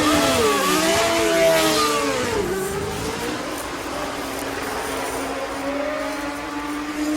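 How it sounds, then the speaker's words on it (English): An old 1970s–80s Lotus racing car's engine howls at a Formula 1 shakedown in Qatar, its pitch sweeping up and down early on before settling into a steady, loud, sustained drone with constant broadband roar. "These are the old Lotus cars from the 1970s and 80s."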